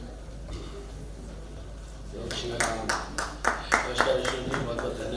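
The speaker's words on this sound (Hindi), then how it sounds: "एक बार जोरदार तालियों के साथ सर का अभिनंदन करते हैं" An audience claps for a speaker, starting as scattered hand claps that build into a short burst of applause, with a voice talking over the start.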